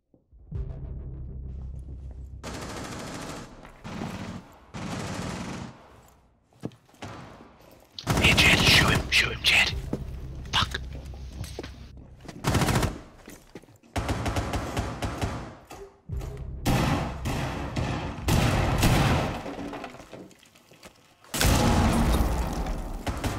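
Rainbow Six Siege gunfire comes in bursts of rapid shots and short fusillades, loud and close, broken by pauses and the odd boom, with excited voices talking between them.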